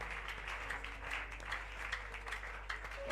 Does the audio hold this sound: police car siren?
no